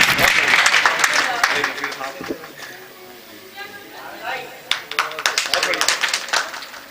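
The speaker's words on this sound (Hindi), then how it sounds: "जोरदार तालियों के साथ" Loud applause and clapping fill a mushaira poetry gathering in Firozabad, with dense hand claps at the start, easing mid-clip, then surging again with sharp claps while voices speak over the crowd.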